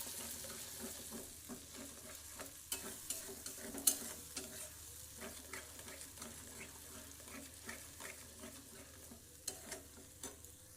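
Masala paste for niramis paneer masala being stirred in an oily pan, with soft scraping strokes and a low, steady sizzle, plus a few sharper clicks of the spoon against the pan, close up and with no voices.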